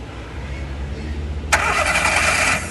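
A car engine cranks on its starter motor, kicking in abruptly partway through as a loud, steady grinding buzz over a low hum, close by.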